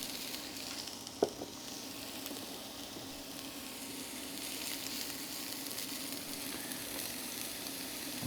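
Sweet onion sizzles in olive oil in a pan on an induction burner at medium heat, a soft steady hiss that runs unbroken and fairly faint, with one brief clink of a utensil early on.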